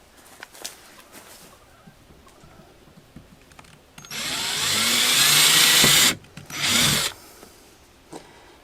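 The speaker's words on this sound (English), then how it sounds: "drill holes on either end of the crack to stop it from spreading" A power drill bores holes at the ends of a crack in a plastic kayak. Quiet handling noises come first, then a loud whirring burst of about two seconds, a short pause, and a second shorter burst.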